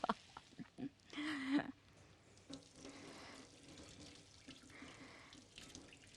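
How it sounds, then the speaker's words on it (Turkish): Hands being washed under a running kitchen tap after handling red pepper flakes, a splashing stream of water with a brief louder gush, then quieter trickling and light clatter, close by with no talk. "pul biberi koyduktan sonra eliniz güzel yıkayın."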